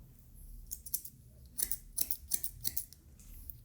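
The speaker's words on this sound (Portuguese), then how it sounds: "Isso aqui é a tesoura dentada" Thinning scissors snip through hair during a taper fade haircut, a series of crisp, close metallic cuts in an uneven rhythm, the blades clicking shut about half a dozen times with no voices.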